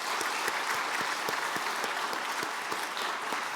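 A church congregation applauds the worship team, with steady, dense clapping from a crowd lasting throughout.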